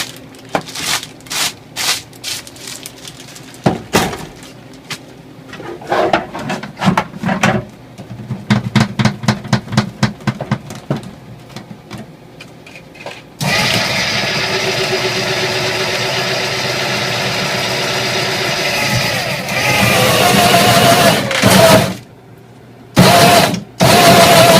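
An ice shaver machine shaves ice into snow, first with a run of choppy bursts and clunks, then a long steady mechanical grinding drone, loud and close, stopping abruptly near the end.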